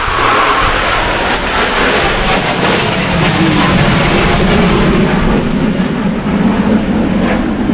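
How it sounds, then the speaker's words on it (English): Blue Angels military jets roar overhead as a loud, steady, broadband rushing drone that holds for several seconds without voices. "I wonder if if they can hear that over the Blue Angels"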